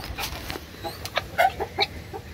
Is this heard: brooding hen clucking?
yes